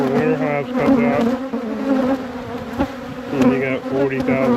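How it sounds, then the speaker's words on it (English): Dense, steady droning of a huge honeybee colony inside an overwintered hive packed with drones, a continuous close buzz with shifting overtones and no voices. "I think like 40 gazillion bees down in there too."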